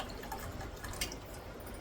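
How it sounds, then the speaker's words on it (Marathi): Water splashing and trickling as it is poured off cooked moth beans in a pan, a steady close wash of liquid with small drips. "बघा पाणी असं ओतून घेतलंय"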